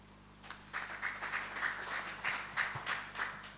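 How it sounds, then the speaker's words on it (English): A modest round of audience applause at a Uganda Forex Bureau and Money Remittance Association anniversary event, quiet and fairly distant, with steady scattered clapping that holds for a few seconds. "Can we have a louder round of applause for him, please?"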